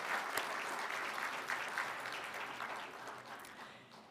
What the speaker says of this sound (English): Can we have a round of applause for our regional network committee?